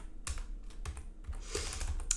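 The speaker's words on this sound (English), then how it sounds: "I've got a brand new keyboard and the layout has not been set up quite correctly for it" Keystrokes on a brand-new computer keyboard, clacking in quick irregular bursts close to the listener, with no talking over them.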